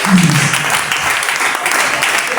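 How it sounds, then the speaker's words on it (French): A church congregation at a Sunday service claps together, a dense burst of applause that rises quickly and holds at a loud level, with a voice briefly over it at the start. "Put your hands together"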